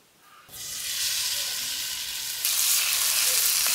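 Oil in a frying pan on the stove, heated for frying meat, breaks from near silence into a loud, steady sizzle after a moment, then jumps louder still partway through, a close hiss with no speech.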